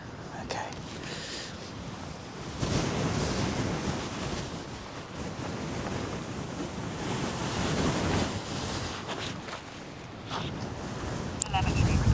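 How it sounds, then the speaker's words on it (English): Strong, gusty wind buffets the microphone at Yowah opal field in outback Australia, a continuous roaring rumble that swells louder after a couple of seconds and holds steady. "Wow, that's windy."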